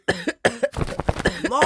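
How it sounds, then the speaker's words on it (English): A man with a worsening cough gives a series of harsh, close coughs in quick succession, rough and throaty, with a short gap after the first. "He still has that cough. Keeps getting worse, mate."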